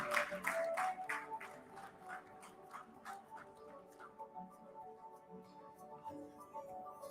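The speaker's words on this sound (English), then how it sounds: "A big round of applause for Bangalore Airport" Audience applause at a domestic air cargo business session, a burst of clapping that starts strong and thins out over several seconds into scattered claps.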